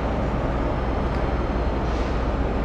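A passenger train's sitting car rolls past in Brisbane, a steady, loud broadband rumble of wheels and carriage noise with no break or voices.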